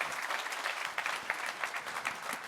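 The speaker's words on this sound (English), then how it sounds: "Round of applause to Varis Teivāns" Applause after a speaker's talk at the opening plenary of the CyberChess 2025 cybersecurity conference, a steady dense clatter of many hands from a seated audience, fairly even in level throughout with no voices over it.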